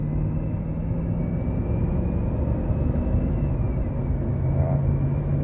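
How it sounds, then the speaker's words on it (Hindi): A GMC engine runs smoothly after a valve lifter repair, a steady low rumble with a constant hum and no talking. "एकदम मस्त चल रहा है इंजन"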